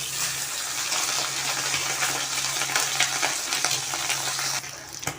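Steady, loud frying sizzle of parshe fish in a pan, a dense crackling hiss that holds evenly throughout with no voices.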